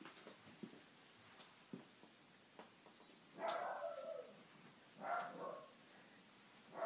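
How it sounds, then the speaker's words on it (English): A dog barks indoors in a home office and craft room, a few short barks at first, then two louder bursts of barking from a little distance, with quiet room tone between them. "And that is my dog barking."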